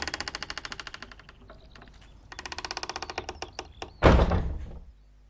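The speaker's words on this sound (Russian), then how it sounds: "Now they're knocking on my barn door." Heavy, rapid knocking on a barn door in the video game This is the Police, two long runs of fast raps followed by a loud, thudding bang that fades out.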